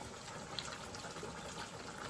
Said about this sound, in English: Then we're going to add some chicken broth to it